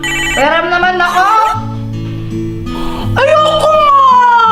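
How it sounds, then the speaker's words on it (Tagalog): Toy cellphone playing a bright electronic ringtone melody, loud and close, with sustained tonal notes shifting in pitch throughout. "Uy, Joanna, ganda ng laruan mong cellphone na."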